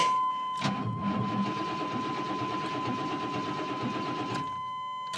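An old truck that has sat unused for a while cranks over, then its engine catches and settles into a steady, close, loud running hum with a persistent whine, ending with a brief click.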